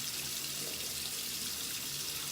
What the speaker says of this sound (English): I'm just gonna run my hands under the water